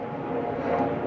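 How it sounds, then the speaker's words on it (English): A low, steady rumbling drone of a helicopter passing overhead in rural Wales, fairly loud and continuous with a slight swell toward the end. "That's a helicopter, I think."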